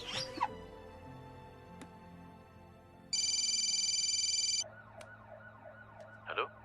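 A telephone on a call being placed in a Hindi film scene gives a short burst of bright electronic ringing, then a pulsing ringback tone, alone and fairly clear with faint clicks around it.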